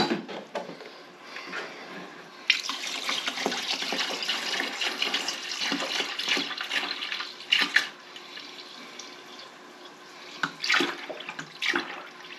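Water pours steadily from a tap into a container holding a brined turkey, a continuous close splashing rush with brief surges and pauses near the end.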